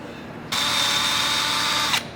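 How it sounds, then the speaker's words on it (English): A power drill with a 3/16 bit runs through a rivet mounting hole on a truck roof rack. It gives a single steady, loud whine lasting about one and a half seconds, close up, then stops abruptly. "grab a 3/16 drill bit, just run it through there real quick, shouldn't have any resistance"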